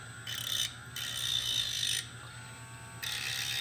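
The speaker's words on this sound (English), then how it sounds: "Using a Dremel tool, just turn it down" A Dremel rotary tool grinds a spot welder electrode to a point in short bursts of high, thin whining with brief pauses between them, close and fairly quiet against a steady low hum.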